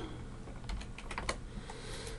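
Typing on a computer keyboard while building a library website, a short close burst of uneven key clicks with no speech.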